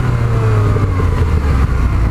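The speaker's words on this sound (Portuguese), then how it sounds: "Ó, até pipoco no escapamento" Yamaha MT-09 motorcycle engine droning loudly at close range while riding on a track, a steady low growl with a few sharp exhaust pops near the end.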